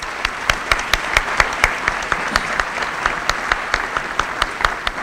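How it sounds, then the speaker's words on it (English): Audience applause at a public safety and community appreciation luncheon, a steady wash of many hands clapping with sharp individual claps standing out, moderately loud and sustained throughout. "We can give them a round of applause as well."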